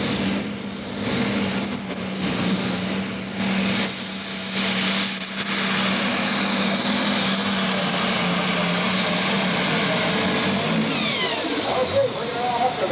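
A 7,700-pound super stock pulling tractor roars at a 1997 Nebraska State Fair pull, its engine a loud sustained howl that swells and rises in pitch, with an announcer's voice mixed in at the start.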